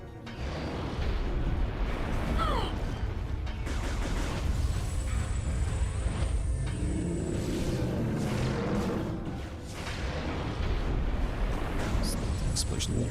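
Explosions in the Wii game Metroid Prime 3: Corruption, set around Phazon crystals powering a barrier, rumble heavily and continuously, with booming bursts and crackling debris layered over a dense, loud game soundscape.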